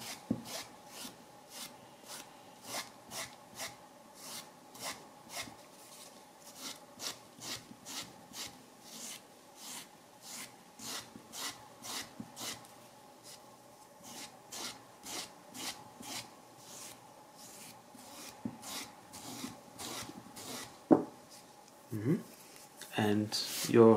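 A tool is swept again and again across a glued leather edge, giving a quick series of close, dry rasping strokes. They run in an even rhythm, and a brief clatter of handling comes at the end.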